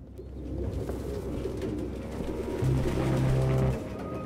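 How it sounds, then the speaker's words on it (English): Pigeons coo in a dim, run-down room in the video game Detroit: Become Human. Soft, low throaty calls repeat over a murky background hum, with no speech. "No human could live with all these fucking pigeons."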